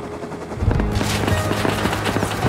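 Dense machine-gun fire in the game Rust rattles in a rapid, continuous stream after a deep low thump, loud and sustained over a booming backdrop.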